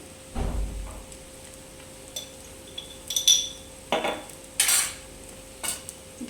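A metal spoon stirs and scrapes egg fried rice with salt and coriander powder in a pan, giving scattered clinks and scraping strokes at close range with quiet pauses between them.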